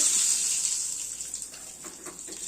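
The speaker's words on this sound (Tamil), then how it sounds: "இப்போ எண்ணெய் காஞ்சிருச்சு, நம்ம தாளிச்சிக்கலாம்." Mustard seeds sputter and sizzle in hot oil for a South Indian tempering, a bright, hissing crackle that starts strong and thins slightly, with scattered pops over a constant frying hiss.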